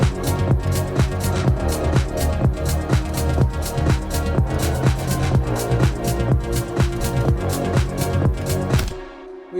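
Second drop of the electronic dance track, dense and loud, with pounding kicks and layered synths in a driving steady rhythm for nearly ten seconds before stopping abruptly.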